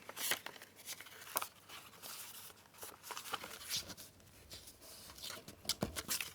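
Scissors cut around a sheet of old paper map, with crisp snips and crinkling paper handled up close, the sounds arriving in irregular bursts with no talking.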